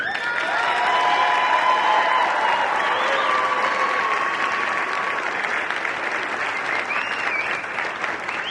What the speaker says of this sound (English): I would ask that you give a round of applause to this dedicated team of professionals